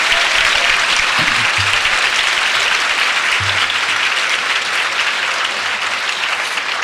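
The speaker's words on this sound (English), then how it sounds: "You can give me applause for that." An audience at a freshman leadership conference in San Jose applauds loudly and continuously, a dense wash of clapping that holds steady throughout with faint murmurs underneath.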